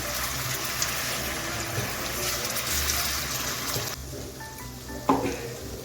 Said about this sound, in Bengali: গ্যাসটাকে লোতে রেখে আমি পেঁয়াজের পেস্টটাকে 2 মিনিটের মতো একটু কষিয়ে নিচ্ছি।